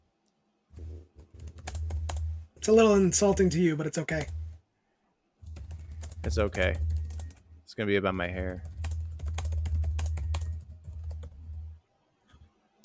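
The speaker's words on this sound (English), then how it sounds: "I hope that we're picking up on the typing." Rapid clicking of a computer keyboard runs under two people chatting casually, the keystrokes steady and close while the voices come and go with laughter.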